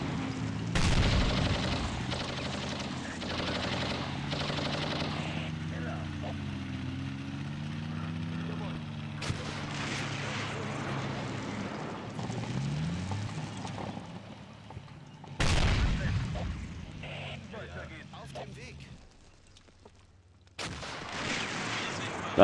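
An SU-85 tank gun fires in the video game Real War Game, Battle of Kursk, its heavy booms landing a few seconds apart over a droning engine and battle rumble, with talking throughout.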